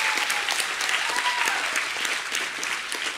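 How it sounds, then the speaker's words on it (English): A gathering audience gives a guest and his wife another round of applause, a full, continuous wash of clapping at steady volume with no voices standing out. "Let's have another round of applause."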